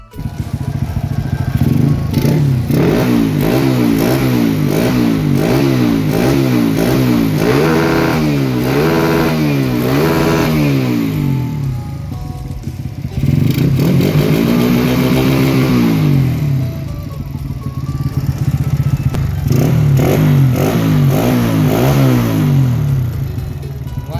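A motorcycle exhaust revs loudly up and down in repeated bursts, pausing between rounds, close by and dominating the scene.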